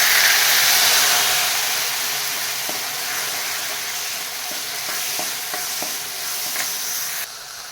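Loud, steady sizzling of cumin, mustard seeds, coconut, garlic and washed masoor dal frying in a pot, with a few light stirring scrapes and clicks; no talking.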